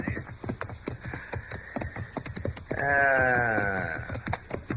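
Two horses make calls and hoof-like thuds that fill the scene, with a long harmonic whinny-like cry rising in the middle; a close, busy stretch with no talking.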